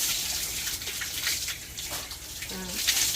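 Water runs steadily into a bath with a constant hissing gush, a faint voice briefly audible near the end.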